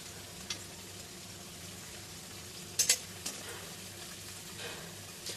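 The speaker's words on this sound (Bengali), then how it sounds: "দেখুন বন্ধুরা, বড়াগুলো আমার ভালো করে লাল লাল করে ভাজা হয়ে গেছে।" Masoor dal fritters (bora) fry in oil with a faint, even sizzling hiss, broken by a few brief clicks and taps, with no talking.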